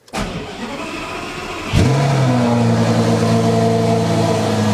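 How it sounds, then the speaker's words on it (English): A Lamborghini turbo engine running on ethanol fuel cranks briefly, catches and fires up, then settles into a steady, loud idle nearby. "I will now start the car with some ED5 and see"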